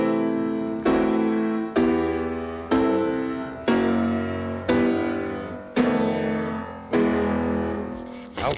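Eight notes of the Brahms Fourth Symphony theme are played with full harmony as a series of evenly spaced orchestral chords, each struck and then fading before the next, with no talking.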